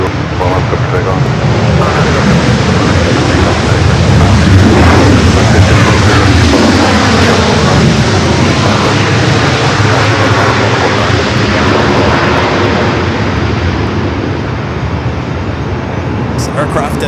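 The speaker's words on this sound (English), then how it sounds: "Up next, the big QA 350 1000." A Qantas Airbus A350-1000 takes off at Los Angeles airport, a loud, sustained jet engine roar that swells and then slowly fades as the aircraft climbs away.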